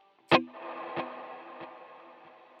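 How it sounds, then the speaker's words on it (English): An electric guitar chord through a dual delay pedal rings out with repeating echoes ping-ponging side to side, a few soft plucks trailing over the sustained, shimmering wash. "I have a dual delay, which I use most of the time, which you can hear ping-ponging from side to side."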